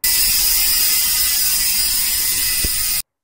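A high-end Hope bicycle hub freewheels with a loud, rapid ratchet buzz, the pawl clicks merged into a continuous bright whir heard up close for about three seconds, then stopping sharply.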